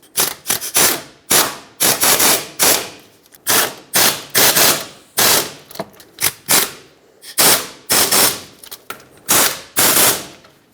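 A ratchet tightens the wheel bearing bolts on a 2012-2018 Nissan Altima front steering knuckle, making close, loud bursts of rapid clicking that repeat about a dozen times with short pauses and no talking.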